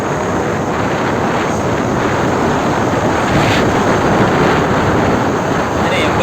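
Steady, loud wind roar and rushing road noise from an Ola S1 Pro Gen3 electric scooter with a 4 kWh battery, ridden at top speed in normal mode, continuous with no break.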